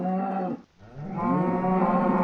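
Cow mooing in the Minecraft video game, a loud, sustained low moo that drops out briefly and then resumes as a second long call, heard alone.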